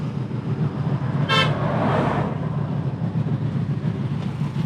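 A brief, weak toot from the horn of a VAZ 2109 Baltika, heard once against steady low rumbling background noise.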